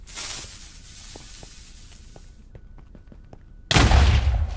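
Minecraft TNT goes off: a hissing burst, then a quiet stretch of sharp clicks, followed by a sudden loud, broad blast near the end.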